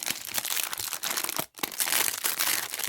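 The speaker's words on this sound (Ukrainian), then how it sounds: "Це двосторонній скотч." Continuous crinkly crackling and rustling of double-sided tape being handled up close, with a brief pause midway before the crackle resumes.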